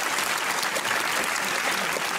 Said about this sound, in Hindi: अपने लिए एक बार जोर से तालियां बजाइए